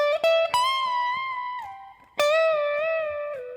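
Electric guitar plays the closing phrase of a song's solo: a few clean sustained notes with a bend and a slide down, a clear attack at the start and another bright note midway, played alone.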